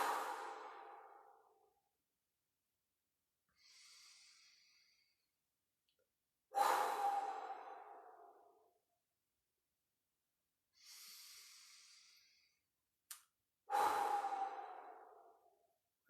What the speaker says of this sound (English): start inhaling and exhaling long and deep, maybe blowing the exhale out of rounded lips